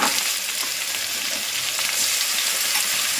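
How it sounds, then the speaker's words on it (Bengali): Ginger, onion, tomato, garlic and capsicum masala fries steadily in oil for a pomfret curry, giving a loud, continuous close sizzle with no talking. "এখানে আমার মশলা থেকে তেল ছাড়তে শুরু করেছি"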